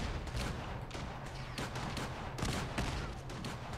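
Incoming gunfire aimed at the player in Fallout 4: irregular volleys of shots and sharp cracks over a steady background of combat noise, with no voices.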